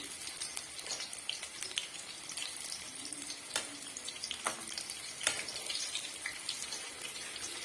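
Soya chunks coated in ragi flour fry in hot oil, giving a steady, bright sizzle with crackling pops and occasional louder spits, close and continuous, with no one speaking.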